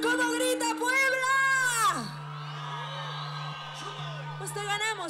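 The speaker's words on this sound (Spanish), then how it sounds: "¡Vámonos a ver cómo grita Puebla!" Live concert crowd in Puebla whooping and shouting together, a loud sustained roar of many voices with a steady low musical drone underneath, swelling early then settling into continuous cheering.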